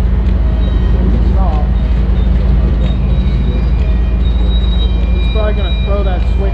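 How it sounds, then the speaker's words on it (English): A big diesel train rolling out of a rail yard, a steady loud rumble with occasional wheel squeal and metallic screeching, continuous throughout. "I'm just watching this other train that rolled out a minute ago."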